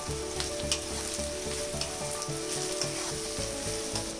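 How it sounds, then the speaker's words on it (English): Sugar sizzles in hot oil in a pan for Bengali mutton kosha, giving a dense, steady crackling hiss close up with a faint low hum running underneath. "We will add the sugar now."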